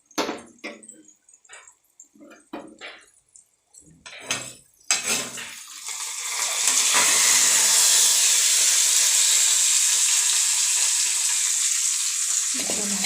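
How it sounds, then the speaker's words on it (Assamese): After a few clinks of a utensil against a pan, water is poured into a hot pan of cooking bitter gourd in an Assamese kitchen, setting off a sudden loud, steady hiss and sizzle that holds to the end. "এতিয়া অকণমান পানী দিম।"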